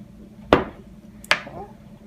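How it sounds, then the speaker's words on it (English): Two sharp, close cuts as a knife presses down through a Perfectly Posh chunk bar, each a crisp snap followed by a brief crumbly tail, spaced under a second apart over faint room hiss. "it should slice fairly easily. Just push down on the bar."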